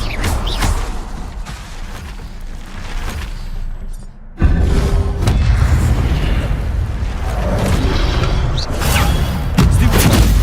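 Spell blasts in the video game Hogwarts Legacy come as loud booming bursts and pops over a busy, rumbling game soundscape, with a sharp jump in intensity midway.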